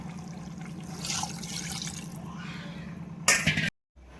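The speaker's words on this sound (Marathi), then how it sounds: "आता थोडंसं पाणी घालून घेते." Water trickles and splashes as it is poured into a pot of country-style chicken curry cooking in its spice paste, a soft, close pour lasting a few seconds and then cut off abruptly.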